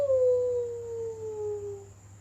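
A dog in an English-class setting gives one drawn-out, falling cry that sounds close and clear and fades over about two seconds, with a faint steady hum underneath.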